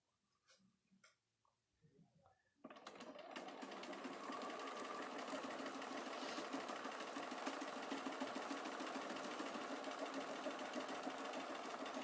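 A sewing machine stitching a seam, starting after a few soft handling clicks and then running in a steady, fast mechanical whir with rapid ticking, close and continuous.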